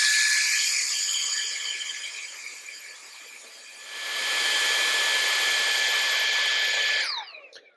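A vacuum cleaner running steadily with a loud, high whine and airy roar, dipping briefly in pitch then surging back to full power before winding down at the end; no talk.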